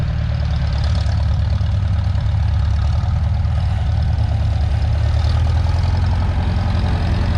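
A pulling tractor's engine runs steadily at a Lynden fall tractor pull with a misfire, a loud, continuous low rumble that holds an even drone without pause for the whole stretch.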